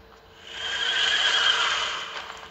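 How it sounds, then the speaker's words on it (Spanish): Possessed horses in the video game Pascal's Wager let out a single drawn-out whinny that swells, peaks and fades over a couple of seconds, loud and fairly close, with no talking. "Estos caballos poseídos."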